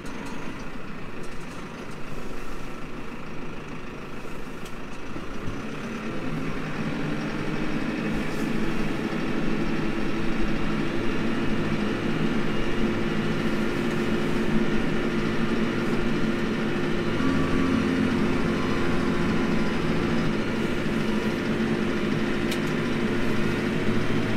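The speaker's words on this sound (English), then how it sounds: "just let the engine heat up a little bit and then we'll go for a test ride" A tractor fitted with a Trima 3.1+ front loader runs a steady, continuous rumbling engine drone up close as it sets off on a test ride after a damper repair, with no talk.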